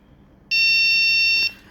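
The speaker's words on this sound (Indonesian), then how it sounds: "suaranya diperbesar dari dua buzzer tersebut" Two electronic buzzers sound together in a physics interference demonstration, giving one loud, steady, high-pitched tone that lasts about a second before cutting off.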